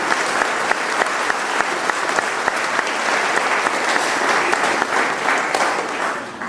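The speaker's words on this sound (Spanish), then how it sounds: "Aplausos para el mismo Rey de Reyes." Congregation in a church applauding during a Catholic baptism homily, a dense, steady clapping that holds at full strength for several seconds with no voices over it.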